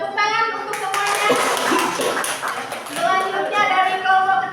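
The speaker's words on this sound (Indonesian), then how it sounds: "Tepuk tangan untuk semuanya" Workshop participants in a teacher-training session in Kuningan break into a burst of clapping that lasts a few seconds, mixed with voices talking over it.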